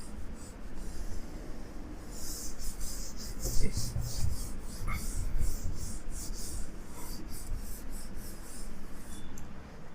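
A board eraser rubs writing off a classroom board in steady, continuous scrubbing strokes, close and moderately loud, with no talk.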